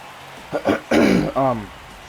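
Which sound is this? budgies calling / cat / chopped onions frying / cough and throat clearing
cough and throat clearing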